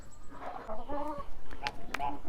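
Free-range hens cluck in short bursts near the microphone, soft repeated clucks mixed with a few sharper calls while a person talks over them.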